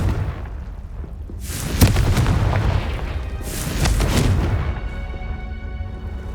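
Two deep booming blasts from the Confringo fire spell in Hogwarts Legacy, each a rumbling burst with a sharp crack that swells and fades, loud and up close, with no speech.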